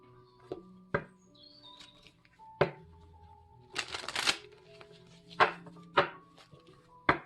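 Tarot cards being shuffled and handled in a bright daylit room: several sharp flicking snaps and a dense riffling burst, heard close and alone.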